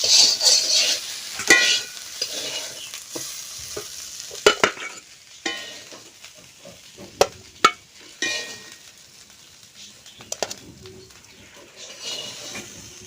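Two dried red chillies roasting over heat crackle and pop in scattered sharp bursts between quieter stretches, while a pigeon coos faintly in the background.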